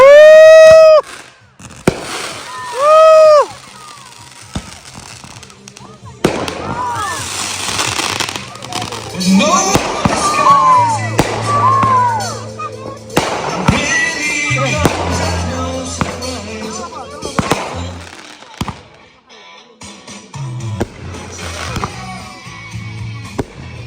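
Fourth of July fireworks at a campground crackle and burst repeatedly over about twenty seconds, with whistling rockets early on, sharp pops and rumbling booms, while people talk and exclaim throughout.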